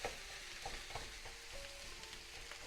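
Ground beef mixed with Italian sausage cooking in a pan, a constant close sizzle with occasional spatula scrapes as the meat is broken apart, moderately loud and alone.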